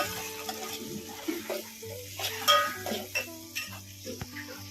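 Onion and peanuts fry in a pan while being stirred for Maggi, a soft sizzle under intermittent scraping and clinking of utensil on the pan, fairly quiet and close.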